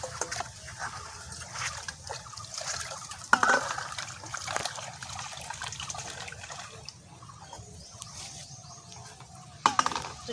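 Pieces of rohu fish being rinsed with salt and water in a bowl, soft sloshing and splashing with a few sharper knocks and drips, close and fairly quiet, no talk.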